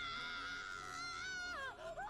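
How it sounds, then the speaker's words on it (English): The anime character Boruto screams in pain after his arm is snapped, a sustained high, strained cry that breaks into a wavering wail near the end. "The scream is super good and accurate, actually."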